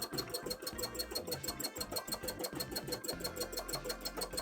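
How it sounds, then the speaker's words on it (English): A sewing machine whirs steadily with a fast, regular stitching rhythm, running continuously and fairly close. "Me and my sewing machine have a very specific relationship, Robbie."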